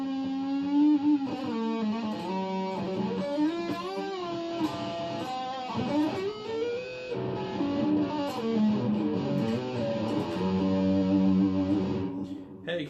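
Electric guitar played through an amplifier's high-gain lead channel, with sustained distorted notes and bends in a continuous melodic lead line, moderately loud and without accompaniment.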